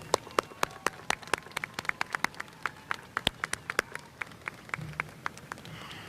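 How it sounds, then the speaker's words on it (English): An audience at the Plattsburgh High School 2022 commencement gives sparse, uneven applause, with crisp individual claps scattered and overlapping at a moderate distance and no talking. "Another round of applause for them."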